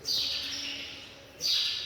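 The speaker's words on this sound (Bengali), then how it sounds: "সুন্দর পাখি ডাকছে খুব সুন্দর নিরিবিলি নিশ্চুপ" Birds chirp and call at a quiet Buddhist temple, two bright bursts of high tweeting a moment apart, fairly close and clear over a calm, still background with no talk.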